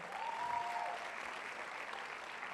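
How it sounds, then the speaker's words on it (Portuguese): Loud, sustained applause from a church congregation during a sermon, with a thick wash of clapping that peaks early and then holds steady, a faint whistle-like tone riding over it briefly. "Dá um aplauso bem forte"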